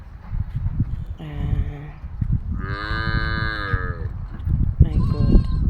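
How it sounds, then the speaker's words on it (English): Cattle in Maasai land moo loudly and close by, several long drawn-out calls one after another, standing out above a constant rustling, shuffling background of the herd. "I'm in between all these cows"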